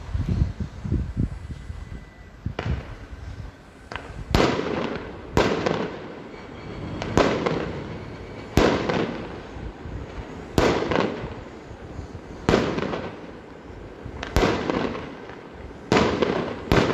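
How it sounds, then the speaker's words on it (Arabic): Fireworks being launched during a night near a building demolition at Jabal al-Mukabbir, a steady run of sharp bursts and crackling booms repeating every second or two, loud and close, with no talk. "إطلاق الألعاب النارية باتجاه"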